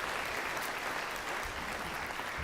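Congregation clapping in a church service for 37 newly baptized people, a steady dense wash of applause throughout with no gaps.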